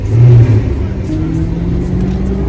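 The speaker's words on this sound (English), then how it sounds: "turned on sports mode so we can hear that exhaust has full potential" A Maserati sports car engine in sport mode revs up loudly from close by, then settles into a steady deep exhaust drone with a faint voice underneath.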